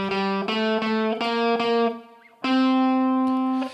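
Slow electric guitar notes, plucked one at a time with brief gaps through an amplifier with reverb, then a long sustained note; clear and close, no voices.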